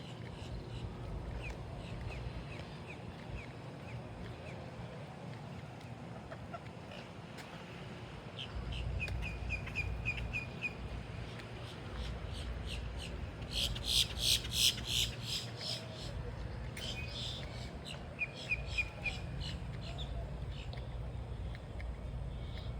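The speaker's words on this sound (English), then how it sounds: "As you can hear, there's a ton of birds out here." Many birds calling outdoors on a breezy day, scattered chirps and squawks rising over steady wind noise, busier and louder in the second half.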